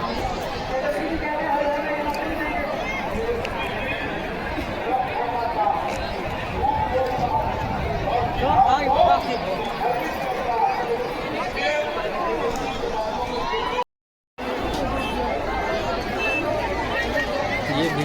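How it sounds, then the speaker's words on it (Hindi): Dense, steady babble rises from a large rally crowd in Narpatganj, many overlapping voices murmuring at constant loudness, with a brief gap of silence near the end. "नरपतगंज में ये भीड़ देखिए।"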